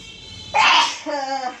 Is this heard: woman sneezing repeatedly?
yes